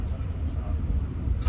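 Steady low rumble and hum fill the interior of a moving passenger train carriage, a constant close drone with no distinct events.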